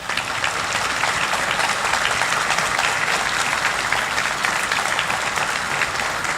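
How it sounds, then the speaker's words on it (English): Sustained applause from an indoor crowd at an evening community healthcare awards event, honoring the committee members and chamber staff, dense, steady clapping throughout at strong, even loudness with no talking. "I'd like to give you guys a round of applause."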